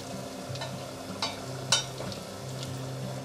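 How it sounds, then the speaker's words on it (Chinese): King oyster mushroom pieces deep-frying in 170-degree oil give a steady bubbling sizzle, broken by a few sharp pops and crackles as they are nudged around, with no voices. "油温170度了，放进来炸， 推一推，让它受热"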